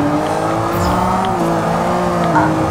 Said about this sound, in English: Yes, I'm drifting.